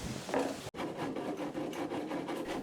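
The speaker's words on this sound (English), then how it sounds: "Here in the narrow front gap, only a rasp is small enough to fit." Hand rasp working the inside of a catamaran hull in a narrow front gap, giving quiet, close scraping strokes in an uneven rhythm with a brief pause.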